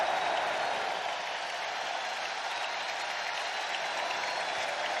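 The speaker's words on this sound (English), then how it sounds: "here comes the crowd at American Family Field" Baseball crowd at American Family Field during Game 1 of the 2023 NL Wild Card series, Diamondbacks at Brewers, cheering and applauding in a steady, sustained roar from a large stadium.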